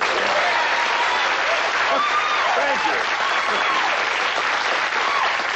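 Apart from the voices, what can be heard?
audience applause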